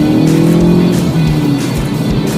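A 2024 Volkswagen Golf GTI with a 2-litre turbo engine accelerates loudly and close by, its engine note rising through short bursts of revving with brief shifts between them.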